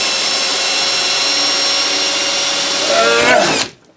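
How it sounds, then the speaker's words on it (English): A power drill whirs steadily at high speed, loud and close, then winds down and stops near the end. "Drilling holes, drilling more holes, making the holes bigger"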